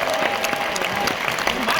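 Audience applause at a concert in Kaunas, with the Kaunas choir and city symphony orchestra on stage, a steady wash of clapping filling the hall with a faint voice over it.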